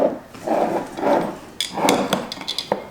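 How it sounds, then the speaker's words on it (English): Metal screw bands being twisted finger-tight onto glass canning jar lids by hand before pressure canning, heard as a few close, soft scraping and rubbing turns followed by sharper little clicks and taps. "you're just going to tighten up your bands before you put them in the canner"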